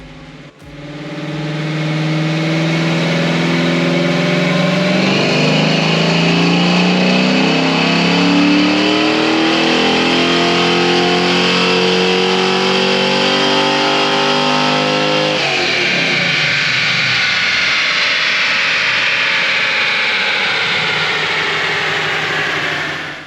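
A 392 Hemi-swapped 1972 Dodge Dart Swinger road-race car revs hard on a chassis dyno, its loud engine climbing steadily in pitch through a long pull before dropping off near the end, with no talk.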